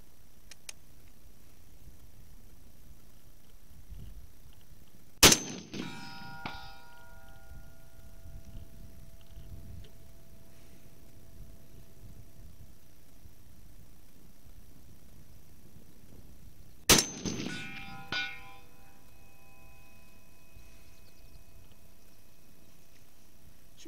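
Two rifle shots with 7.62 NATO rounds, a Springfield M1A or S&W M&P10 at an outdoor range, each a sharp crack followed by a brief ringing echo, about twelve seconds apart amid quiet background.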